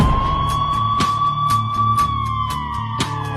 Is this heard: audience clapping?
no